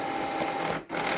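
An Epson WF-2650 printer shifts its ink cartridges into position with a steady, close mechanical whir that briefly drops out near the end and then resumes.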